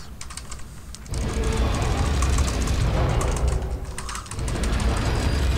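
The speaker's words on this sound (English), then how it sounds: "I love the sound of clicking my keyboard." Fast, continuous clicking of a computer keyboard during typing, close and loud, with dense rapid keystrokes and a brief lighter pause partway through.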